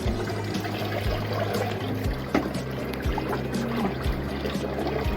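Tap water poured over a child's head runs in a steady, close, continuous splash that lasts the whole time, with a low hum underneath.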